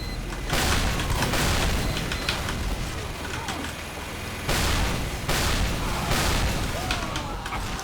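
Grenade launcher pills explode in Team Fortress 2, a series of heavy booming blasts arriving in two clusters with rumbling tails, loud and close, with gunfire-like bursts mixed in.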